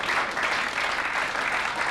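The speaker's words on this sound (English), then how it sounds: "And the crowd applauding that effort from Jason Twist." Steady applause from a crowd at the 1998 Embassy World Pool Championship quarter-final, a dense, even clatter of clapping filling the short stretch without pause.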